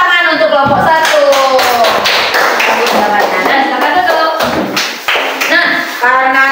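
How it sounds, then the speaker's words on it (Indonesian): A grade-four class claps for a group of classmates, brisk close clapping and tapping mixed with children's voices calling out throughout. "dah kasih tepuk tangan untuk kelompok 1"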